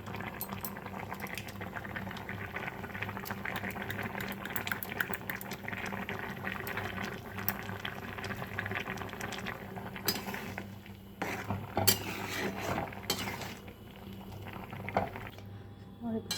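Chana dal curry bubbles steadily in a pot, a soft continuous simmering burble with occasional clinks of utensils and brief faint knocks near the end.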